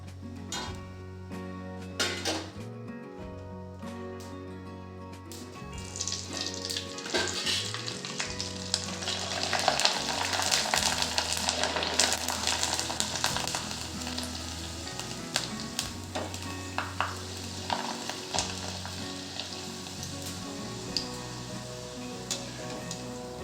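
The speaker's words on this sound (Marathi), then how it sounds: "आपण दुसरी कुरडी तळून बघू." Traditional Maharashtrian kurdai fry in hot oil, a close, continuous crackling sizzle that swells and fades as the pieces cook, with occasional stirring clinks.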